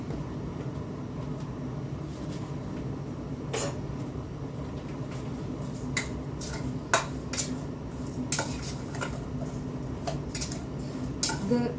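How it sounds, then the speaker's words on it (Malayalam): Grated coconut, banana and sugar get mixed together for puttu, with soft steady rustling and stirring and a few sharp clinks of a spoon against a bowl scattered through. "നമുക്ക് ഇനി ഈ തേങ്ങയും പഴവും പഞ്ചസാരയും കൂടെ ഒന്ന് മിക്സ് ചെയ്യാം"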